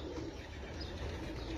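Racing pigeons coo softly during a training flight in Bursa, a steady murmur of birds under broad background noise, with no talk.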